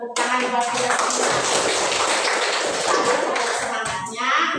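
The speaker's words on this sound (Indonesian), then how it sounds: "Tepuk tangan buat kita semua." A classroom of children breaks into a dense, continuous round of hand clapping, loud and close, lasting several seconds with a few voices mixed in.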